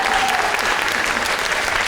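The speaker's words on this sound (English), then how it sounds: "You're just applauding because I'm not Doug Ford, right?" Steady, dense applause from an audience at a public open house on former Greenbelt lands, loud and continuous throughout with no talk over it.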